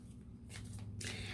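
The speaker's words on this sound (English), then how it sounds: "I'm just going to shuffle up the deck" A deck of astrological forecast cards being shuffled, giving two short papery riffling bursts near the microphone over a low steady hum, with no talking.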